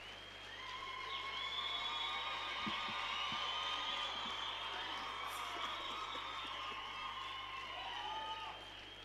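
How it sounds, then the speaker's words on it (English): Audience at a youth and disability summit applauding and cheering as a government minister comes on stage, a steady broad wash of clapping with whoops and yells sustained for several seconds. "A round of applause to bring the Minister on stage."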